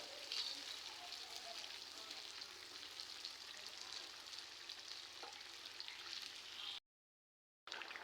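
Spicy chicken curry, made with plenty of chili, fries in oil that has risen from the meat, giving a steady, even sizzle throughout that cuts out briefly near the end.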